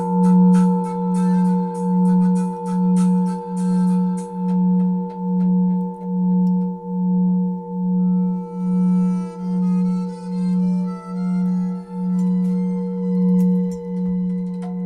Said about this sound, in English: this is a very loud bowl